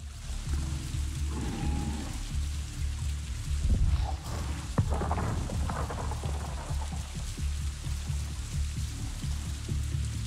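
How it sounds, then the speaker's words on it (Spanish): Heavy rain pours steadily in Avatar: Frontiers of Pandora, a dense continuous hiss with low rumbling thunder rolling through the middle, no voices over it. "¿Cómo llueve, máquina?"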